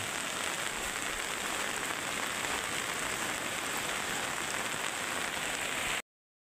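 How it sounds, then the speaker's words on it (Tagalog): Heavy typhoon rain with gusting wind in Masbate, a loud steady hiss of downpour filling the whole stretch before it cuts off abruptly near the end. "Napakadilim, malakas na ulan na may kasama bugso ng hangin"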